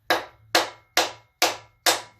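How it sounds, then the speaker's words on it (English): A nylon-head hammer strikes the crankshaft of a Quad 4 engine being built, to set thrust clearance. Five sharp, evenly spaced knocks ring out close and loud, each decaying quickly, with no talk. "so I'm going to strike the crank from the front."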